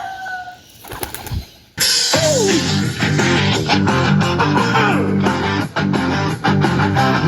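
Racing pigeons take flight with a burst of wing flapping that starts suddenly and continues steadily, loud and close, over background music.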